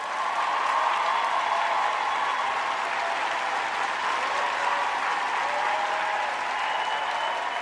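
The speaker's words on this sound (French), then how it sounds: "Est-ce qu'on peut applaudir, s'il vous plaît?" Studio audience applause at the opening of a televised competition show, dense and steady clapping sustained evenly throughout at an even level.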